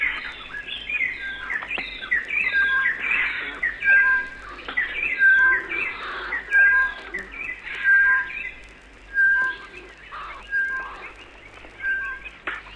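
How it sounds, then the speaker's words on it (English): A dense dawn chorus in the East African bush, with many birds chirping, whistling and trilling together in overlapping, repeated calls, lively and moderately close against a low steady background hum. "This is the fabulous dawn chorus, to be heard in the bush all over East Africa."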